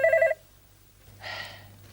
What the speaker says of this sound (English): You go and answer that phone.